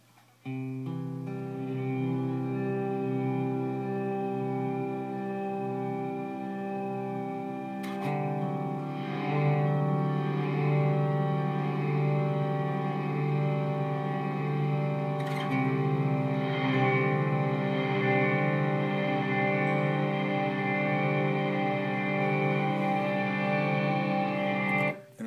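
A sustained electric guitar chord ringing in a wash of heavy reverb from an Eventide Space pedal's Blackhole setting, mix turned up, the tail swelling and blurring louder partway through, with no talking.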